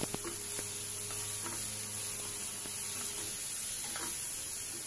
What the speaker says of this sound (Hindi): सब्जियों को ओवर कुक नहीं करना है, हल्का हल्का सोते करना है।